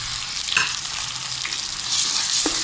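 Tomatoes frying in a pan with garlic-ginger paste for halwa puri, a steady hiss of sizzling oil with a few soft stirring scrapes, close and continuous with no talking.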